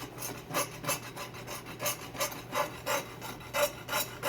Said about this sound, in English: scrape some of the solid from the bottom of the pan